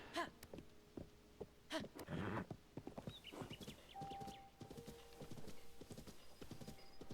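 Horse hooves clip-clop in the video game Zelda: Tears of the Kingdom, an uneven run of crisp hoofbeats with a snort and whinny among them, fairly quiet and alone without talk.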